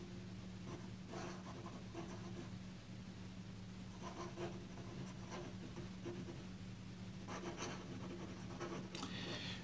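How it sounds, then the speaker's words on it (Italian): Extra fine fountain pen nib loaded with Herbin Ambre de Birmanie ink scratching across paper in short bursts of faint dry rasping strokes, with quiet pauses between them and a steady low hum behind. "vedere un po' come si comporta questo inchiostro quando lo utilizziamo con un pennino extra fine"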